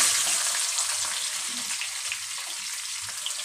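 Chopped onions sizzle steadily in hot oil in a pan for a mixed vegetable curry, a dense, even frying hiss heard up close with faint stirring and no voices.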